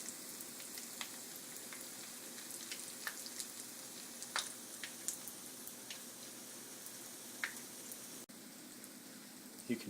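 Shanghai lumpia frying in hot oil, a steady fine sizzle with scattered pops and crackles throughout, moderately quiet and continuous, with a faint knock of a utensil near the end.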